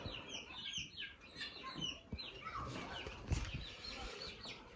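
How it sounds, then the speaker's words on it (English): A blue hen on a homestead gives soft, faint clucks with a little wing flapping, close by in a quiet yard. "So here's one of my blue hens."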